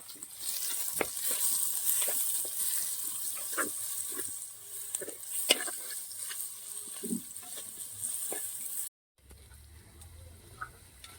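Onion, ginger and green chili sautéing in a pan with curry leaves, a steady bright sizzle with scattered stirring clinks and scrapes, then a sudden cut to a quieter, duller background.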